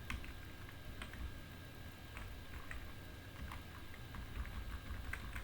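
Keystrokes of C code being typed on a computer keyboard, soft irregular clicks coming in small bursts over a steady low background hum, fairly close and quiet, with no talking.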